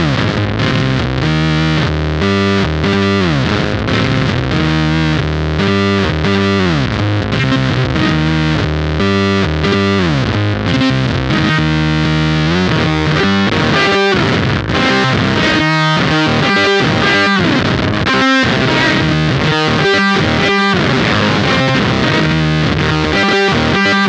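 Distorted electric guitar on the neck pickup played through a Beetronics Whoctahell low octave pedal. It gives a thick, loud, sustained fuzz-octave tone with chugging riffs and steady picked notes that run without pause, with no voice.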